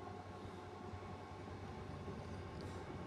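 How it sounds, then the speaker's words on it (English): An LNER HST train passing Longlands Junction gives a faint, steady rolling rumble of wheels on track, heard alone and at a distance. "HST LNER passing Longlands Junction"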